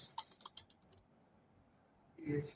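Several quick, crisp keystrokes on a computer keyboard, quiet and close, tapped in a short irregular burst, followed by a pause of near silence and a brief voice at the end.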